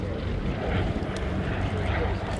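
Vintage SE5 biplane flying at Sywell Airshow, a distant steady engine drone under a commentator's continuous talk.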